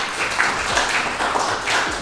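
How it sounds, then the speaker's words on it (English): Audience at a mind-reading comedy show clapping for a volunteer returning to her seat, a short burst of scattered, moderately loud applause from a modest crowd. "Let's give her a big round of applause."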